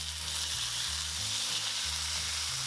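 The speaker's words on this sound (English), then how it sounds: "continue to pan fry 5 minutes" A ribeye steak for teriyaki pan-fries in a pan, giving a steady bright sizzle under low background music.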